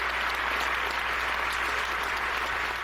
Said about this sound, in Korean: 양원 의원들이 전부 그 박수를 치는데 그 소리가 정말로 우렁찼습니다.